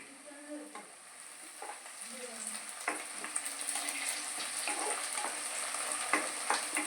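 Curry leaves and onions sizzle steadily in a hot pan for brinjal gravy, a close continuous frying hiss with occasional stirring scrapes and no talking.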